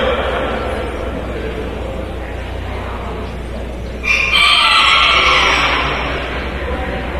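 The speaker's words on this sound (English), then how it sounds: "I think we need to get some of these chickens and roosters to come call some ball games for us tonight, Kyle." Chickens and roosters at a county fair poultry show, with a loud crow bursting in partway through over a steady bed of clucking and barn noise; speech is faint in the background.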